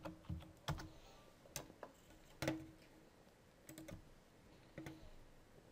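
Typing on a computer keyboard: a scattered series of sharp, close clicks and clacks in small bursts separated by short pauses, with no voices.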